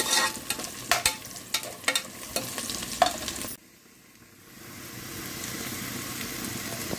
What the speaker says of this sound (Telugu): ఎర్రగా వేగిపోవాలండి ఉల్లిపాయలు